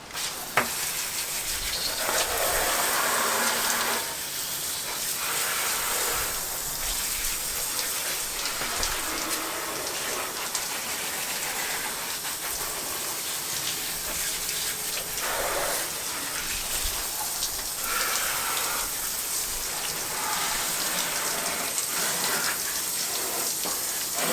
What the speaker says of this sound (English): So yep, just give it a really good rinse.